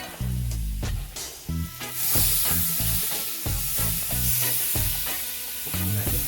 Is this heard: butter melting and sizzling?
yes